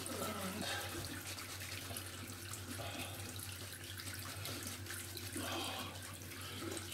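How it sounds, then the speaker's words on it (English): Tap water runs steadily into a sink while a shaving brush is lathered, a continuous faint splashing hiss with a low hum underneath and no talk. "Oh, wee spot of water."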